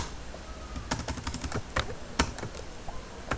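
Computer keyboard keys clatter in irregular bursts of crisp, close clicks, with short pauses between runs of typing and no voices.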